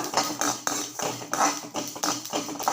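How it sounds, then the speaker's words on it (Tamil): Sesame seeds and garlic roasting in a pan for idli podi, sharp crackling pops and clicks in an irregular rapid rhythm, close and fairly loud. "நல்லா எல்லாம் பொரிஞ்சிருச்சு பாருங்கள் படபடங்கிறது பார்த்திங்களா"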